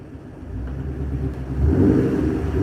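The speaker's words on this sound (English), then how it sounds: "We'll give a light rev for you guys." A sports car with a factory exhaust gives a light rev, a low engine rumble idling and then swelling briefly as the throttle opens, loud and close.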